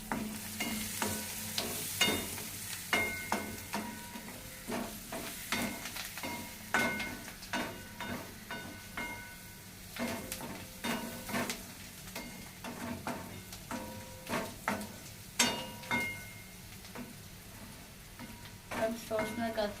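Red amaranth curry with turmeric being stirred in a pan, a steady run of repeated scraping and clinking strokes of a spoon against the metal over a light sizzle, close and moderately loud.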